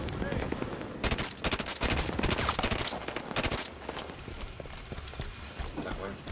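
Silenced SMG gunfire in Halo 5: Guardians Warzone, rapid muffled bursts with dense game noise and chatter.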